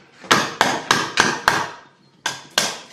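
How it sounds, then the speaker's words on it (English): Stanley wood chisel struck to break small pieces out of wood on a garden trellis, seven sharp, loud, close knocks in an uneven rhythm with a short pause before the last two. "I'm going to use a chisel. I'm going to break these pieces out just like this"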